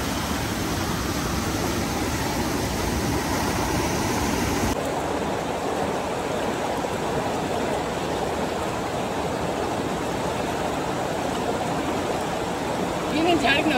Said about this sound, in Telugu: ఇక్కడ చిన్నదిగా వాటర్ ఫ్లో అవుతుంది